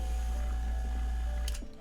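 A vacuum pump drawing water through a water trap hums loudly and steadily, then breaks into a brief gurgling slurp before fading.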